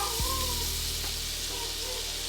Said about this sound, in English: Now I'm gonna start doing our lemon. This is how we're gonna deglaze the pan.